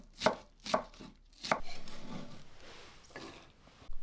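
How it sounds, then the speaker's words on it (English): A knife chops green chilies, mini peppers and spring onions on a board, three distinct close thuds followed by quieter scraping and mincing strokes, with a final chop at the end. "Cut the green chilies and mini peppers into chunks. Mince 3 spring onions."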